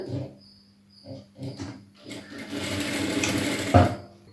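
Blouse fabric under a sewing machine: a few short start-stop bursts give way to a steady close motor run lasting about two seconds, ending in a sharp thump.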